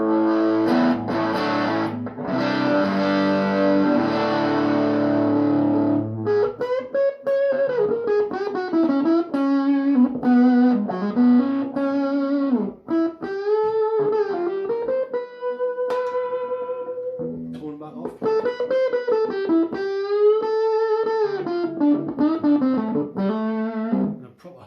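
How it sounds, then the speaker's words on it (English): Epiphone Les Paul Standard electric guitar played on a clean neck-pickup tone, sustained chords giving way to a melodic single-note line with bends and slides, loud and close with no talking. "Les Paul tones there."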